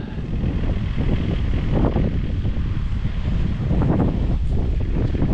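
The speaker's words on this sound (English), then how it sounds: "A little windy today." Steady wind buffets the microphone with a constant low rumble and rushing noise, loud and unbroken throughout.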